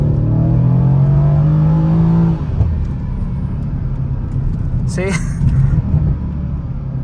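A Mercedes C63s in Sport Plus mode rises in a loud throaty engine note, then drops sharply on an automatic downshift into a deep rumble, with a brief speaking voice over the engine.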